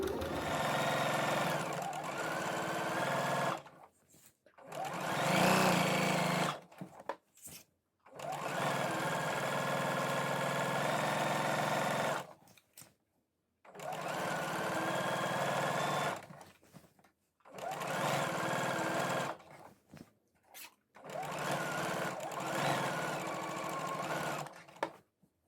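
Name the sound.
sewing machine stitching around a shorts waistband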